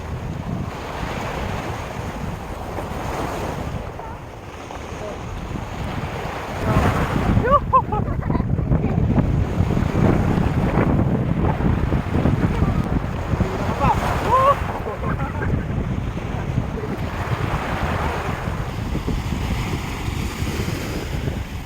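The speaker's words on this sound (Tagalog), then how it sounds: "So medyo malakas ang alon ngayon." Strong surf pounds the shore at Bangol Beach, with waves breaking in repeated surges and heavy wind buffeting the microphone, and voices briefly audible.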